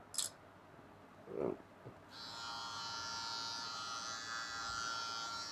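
A Kemei KM-6330 electric hair clipper starts up after a couple of brief knocks and then hums with a steady, close, fairly quiet electric buzz for the rest of the stretch.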